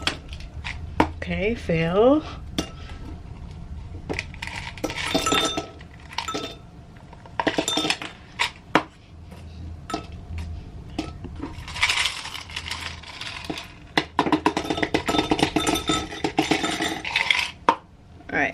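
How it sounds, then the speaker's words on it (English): Ice is poured into a container in a cruise ship cabin, bursts of clinking and rattling cubes against hard surfaces, close by, with someone talking between pours. "So I need to pour this ice in here."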